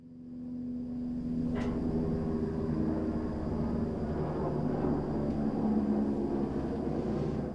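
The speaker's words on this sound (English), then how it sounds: "Speaking of helicopters." A steady, droning engine roar from an aircraft passing overhead, holding a constant low hum for several seconds without much change in loudness, with no voices heard.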